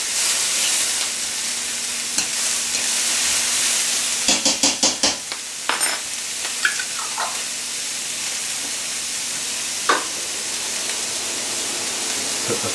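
Pork and minced ginger sizzle in a hot stir-fry pan with a continuous hiss and steam. Around the middle, a burst of clattering stirring strokes breaks in, and a few scattered clinks follow.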